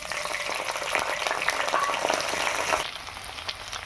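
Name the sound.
spices and onion paste frying in hot oil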